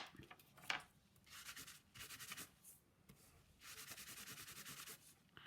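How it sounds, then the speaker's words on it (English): Paper scraps burnished with a rubbing tool, heard as short bursts of close, dry scraping strokes separated by quiet pauses. "I just need to now burnish it off, because that gives it that nice like shiny polishy look to it."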